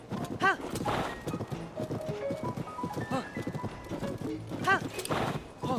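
A golden horse in Zelda: Tears of the Kingdom clops along with rhythmic hoofbeats and lets out whinnying neighs near the start and end, with a voice talking over the game sounds.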